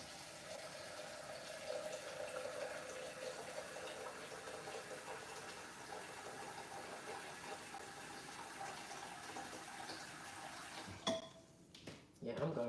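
Tap water runs steadily into a pot for boiling in a home kitchen, a continuous broadband wash through most of the clip, with a few clinks of dishes near the end.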